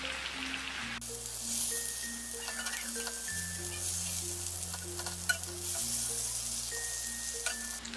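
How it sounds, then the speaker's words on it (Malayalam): Tandoori chicken fries uncovered in a stovetop pan over a medium flame, a steady close sizzle and crackle with occasional stirring and turning scrapes, while soft background music plays. "ഇനി നമുക്കിത് അടയ്ക്കാതെ തന്നെ മീഡിയം ഫ്ലെയിമിൽ വെച്ച് ഇത് തിരിച്ചും മറിച്ചും നല്ലതുപോലെ ഡ്രൈ ആക്കി എടുക്കണം"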